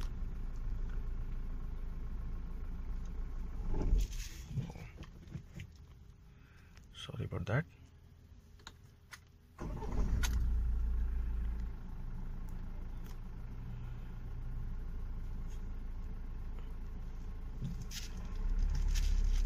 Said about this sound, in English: there is the overall engine noise in this Tata Harrier without the AC on